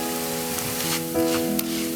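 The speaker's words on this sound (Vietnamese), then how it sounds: "chờ cho dầu nóng ra rồi mới thả cá vào chiên" Anchovies fry in hot oil in a pan, a steady close sizzle lasting a couple of seconds with no talking.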